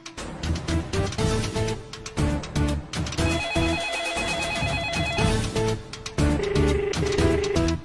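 A telephone rings repeatedly in a dramatic scene. Bright electronic trills sit over a loud musical soundtrack, with tonal bursts pulsing in a steady rhythm across the clip.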